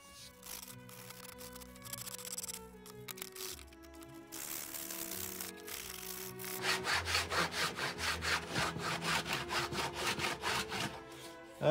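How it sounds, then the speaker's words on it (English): Metal file scraping across a cracked vinyl car dashboard, steady back-and-forth rasping strokes that grow faster and more rhythmic toward the end, close and fairly loud with no talking. "I like to start with the file instead of sandpaper because this makes a lot less mess."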